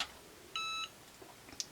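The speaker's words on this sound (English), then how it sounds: "when it beeps, the time is over" A Cricut EasyPress heat press timer gives a single short electronic beep, clear but fairly quiet against a still background, while vinyl is pressed onto wood.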